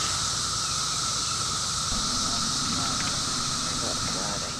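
Cicadas in Illinois drone in a steady, dense high buzz that fills the whole stretch without a break, loud and continuous with a noisy hiss beneath and no voices.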